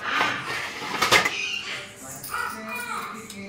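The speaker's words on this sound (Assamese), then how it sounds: "খানাটো ঢাকি দিম কাৰণ সোনকালে মানে উতলিব গৰম হয়" A cooking pot being covered with its lid, heard as a sharp metallic clatter and clink up close, with a few lighter kitchen knocks after it.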